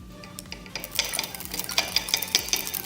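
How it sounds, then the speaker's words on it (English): A whisk working thick homemade body butter in a bowl, giving a run of quick scraping, clinking strokes that grow busier and louder toward the end, close by with no talk. "I'm going to go get my whisk and I'm going to whisk this up a little bit"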